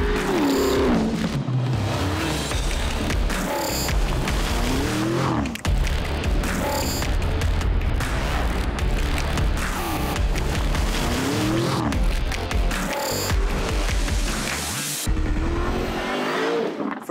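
A Lamborghini Urus SUV drives on dusty ground near Rome, engine note loud and continuous with revving surges and tyre scrabble, up close throughout under heavy backing music.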